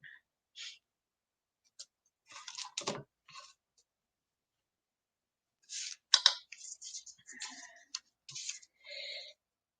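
Scissors cutting craft paper for embellished pockets, with scattered close snips and clicks coming in short clusters and separated by quiet gaps.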